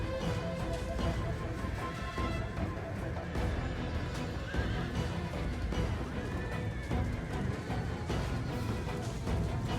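Horses in the Rome 2: Total War strategy game, including horse archers, neigh and whinny amid dense battle noise, with hoof clip-clop and a steady din of soldiers running underneath.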